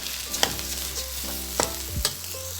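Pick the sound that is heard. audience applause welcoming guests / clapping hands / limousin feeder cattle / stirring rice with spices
stirring rice with spices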